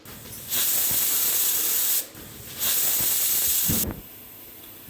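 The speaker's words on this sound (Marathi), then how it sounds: "आणि मीडियम गॅसवर आपल्याला 2 शिट्ट्या करून घ्यायच्या आहेत।" A pressure cooker of rice on a medium gas flame releases steam in two loud, sustained hissing bursts separated by a brief lull, followed by a softer tail and a small click at the end.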